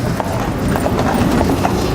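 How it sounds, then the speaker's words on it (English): Carriage horse hooves clip-clopping on a downtown Louisville city street, a steady loud rhythm of hoof strikes echoing off the surroundings over a constant background rumble. "It's a good area where you can really hear the horse hoofs"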